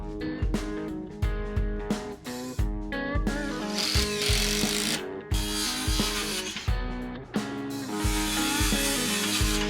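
A power drill drives screws into boards during a floating cabin renovation in rural Appalachia, its motor whining up and down in short repeated bursts with brief pauses, fairly close and with no talking.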